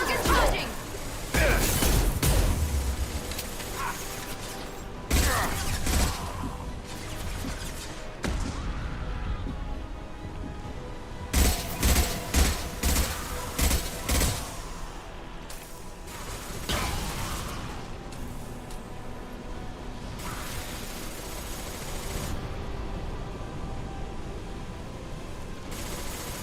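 Gunfire in the Mass Effect: Legendary Edition combat, scattered sharp shots and short bursts with clustered rapid volleys near the middle, mixed with impacts and crashes, while voices talk at times.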